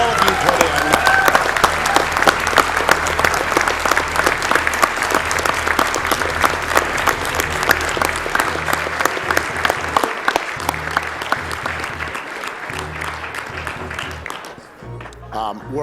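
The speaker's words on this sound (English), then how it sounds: "let's get one more round of applause for both of our runners" Loud, sustained applause from a large live audience at a speedrunning marathon event, a dense crowd clapping for about fourteen seconds before it tapers off and ends abruptly.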